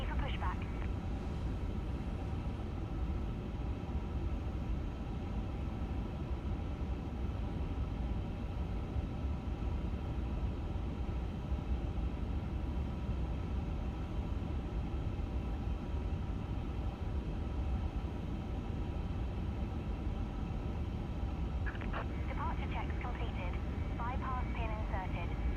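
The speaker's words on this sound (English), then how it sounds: "Love the way the flap sounds on the 350." Flaps moving on an iniBuilds A350 in a flight simulator, a steady, even cockpit drone with a low humming whine that holds throughout and brief tonal warbles near the end.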